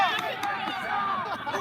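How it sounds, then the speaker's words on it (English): A rugby sideline crowd at a Cal Berkeley versus Utah State women's match yells and chatters in overlapping voices, a busy cluster of shouts close by. "you may hear both sidelines yelling this cheer about blunder control"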